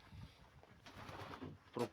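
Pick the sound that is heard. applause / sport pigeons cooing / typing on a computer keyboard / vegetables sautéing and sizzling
sport pigeons cooing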